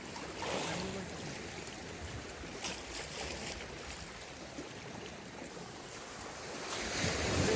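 Mediterranean sea waves washing over a rocky beach at a fishing spot, a steady close rush of surf with wind buffeting the microphone throughout and no talking.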